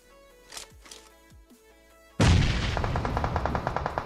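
Gunfire in a competitive online shooter match, with a few sharp distant pops and impacts, then a sudden loud burst of rapid automatic shots continuing in a rattling rhythm.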